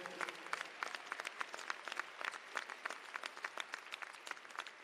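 Graduates and guests at an undergraduate commencement ceremony clap in a fairly faint, distant round of applause, with distinct individual claps scattered through a steady patter.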